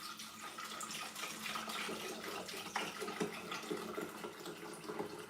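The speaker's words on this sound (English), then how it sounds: "Use my vinegar. Just gonna pour." Vinegar pours in a steady, quiet liquid stream for several seconds into a mixture for Ghana butter bread, with no talk over it.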